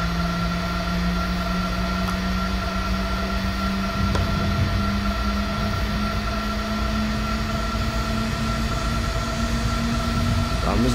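A train pulls out of a station in Train Simulator 2020, giving a steady low engine drone with a slowly rising tone and faint rail clicks, continuous and fairly close throughout.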